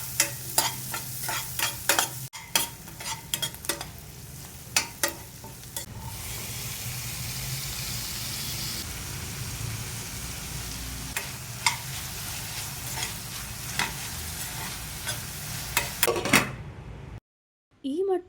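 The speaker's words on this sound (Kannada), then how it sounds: "ಸಣ್ಣದಾಗಿ ಕಟ್ ಮಾಡ್ಕೊಂಡಿರೋ ಟೊಮ್ಯಾಟೊ ಹಾಗೆಯೇ ಸ್ವಲ್ಪ ಉಪ್ಪನ್ನು ಹಾಕಿ ಟೊಮ್ಯಾಟೊ ಸಾಫ್ಟ್ ಆಗೋ ತನಕ ಇದನ್ನು ಫ್ರೈ" Chopped tomatoes and onions with salt sizzle steadily in a pan for an egg curry, with frequent clinks and scrapes of a stirring spoon throughout, pausing briefly just before the end.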